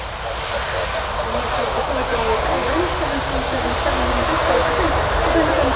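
Iberia airliner passing at Manchester Airport, a loud continuous engine roar and rushing wash that holds steady, with a voice faintly audible beneath it.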